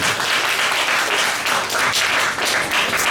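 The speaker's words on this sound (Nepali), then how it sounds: "उहाँको लागि चाहिँ जोरदार ताली" Loud, sustained applause from an audience at a disability-inclusion event in Nepal, dense clapping that holds steady for several seconds without pause.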